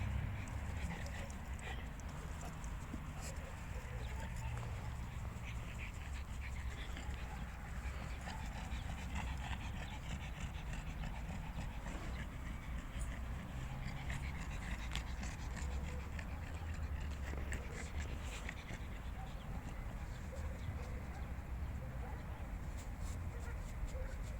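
German Shepherd panting steadily at a dog park, a continuous rapid breathing rhythm under constant outdoor background noise.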